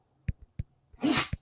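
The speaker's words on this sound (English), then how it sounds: "Excuse the sneezing in the background." A few short soft snorts followed by a burst of sharp sneezing from a dog, nearby and fairly quiet, with no talking.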